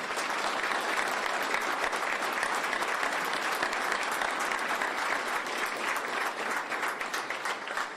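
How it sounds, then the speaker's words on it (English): Sustained, dense applause fills a press conference introducing baseball player Rafael Devers as the newest San Francisco Giant, steady and unbroken from start to finish with no talk over it. "I'm going to give him a round of applause."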